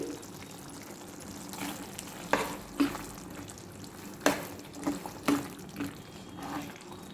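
Soaked cashews going into a mushroom curry in the pan, with a soft continuous sizzle and several sharp stirring knocks and scrapes spaced irregularly, close but fairly quiet, with no talking.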